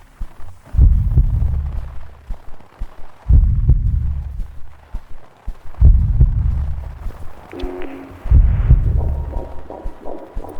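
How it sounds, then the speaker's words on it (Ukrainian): Deep, booming heartbeat thuds in slow pairs from the horror game The Moth Inside Me, repeating four times with a low rumbling hum between them, loud and close. "Ну, навіть звучить як серце."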